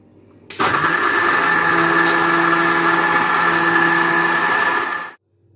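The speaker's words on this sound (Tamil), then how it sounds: "நான் இப்போ இதை அரைக்க போகிறேன்." A kitchen wet grinder runs loudly and steadily for about five seconds, grinding soaked poha, grated coconut and water into appam batter, then cuts off abruptly.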